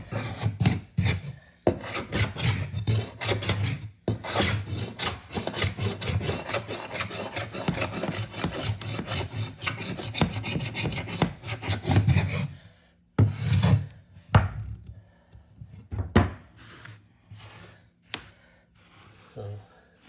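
An old hardwood floor, over 80 years old, being hand-scraped with a scraper: repeated close, gritty rasping strokes in a brisk rhythm, with brief pauses between bursts toward the end.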